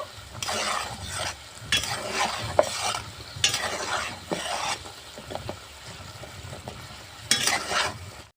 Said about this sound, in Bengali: হালকা জালে এভাবে করে আমি নাড়িয়ে নাড়িয়ে শিরার রসটা শুকিয়ে নেব।